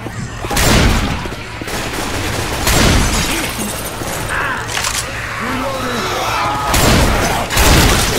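Gunfire in the co-op zombie video game Left 4 Dead 2: loud, repeated bursts of automatic and shotgun fire with sharp cracks and brief pauses, alongside in-game character voices.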